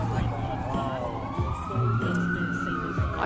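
Fire engine sirens sweep past on a city street near Flagstaff Gardens, a rising and falling wail riding over traffic rumble and background chatter.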